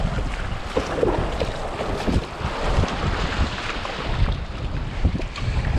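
Winter sea waves slosh and slap against a kayak sitting side-on to the swell off Mersea Island, with heavy wind buffeting the microphone in a constant rough roar and irregular splashes.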